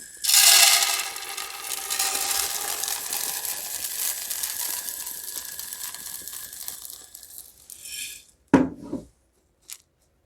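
Sunflower seeds pour into a grain measuring container in a loud rushing hiss that fades over several seconds, then a few sharp knocks and clatters follow.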